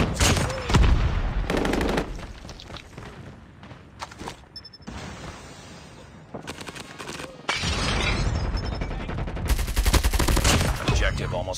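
Video game gunfire with bursts of rapid automatic shots and loud single cracks, separated by short pauses, plus a shattering hit and game voice lines mixed in.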